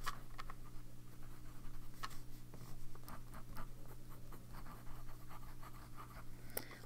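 A Pilot Kakuno fountain pen with a medium nib scratches across paper in short, faint strokes over a steady low hum.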